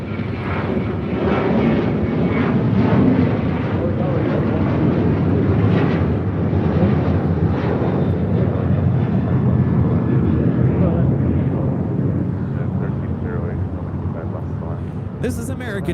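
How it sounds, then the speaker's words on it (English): An American Airlines Boeing 737-800 takes off from LAX bound for Chicago O'Hare, producing a loud, sustained jet roar that slowly fades, with wind buffeting and people talking over it. "This is American Airlines 2608 taking off to Chicago O'Hare on a 737-800"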